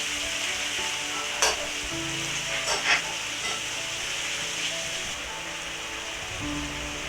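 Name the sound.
pork frying in pot for geera pork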